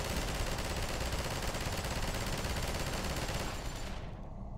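Sustained automatic gunfire from a machine gun in Garry's Mod, loud and continuous for several seconds with dense rapid bursts, tailing off slightly at the end.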